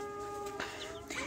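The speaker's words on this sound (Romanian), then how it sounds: "Și aici mai e un pui de găină." Young chicken chicks, hatched and raised under a duck, give faint, brief peeping calls close by, high and thin over a steady low background hum.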